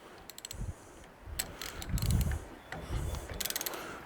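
Ratcheting wrench clicks in short bursts while tightening the bolts on a trailer coupling head, close up, with soft knocks and handling noises between the bursts.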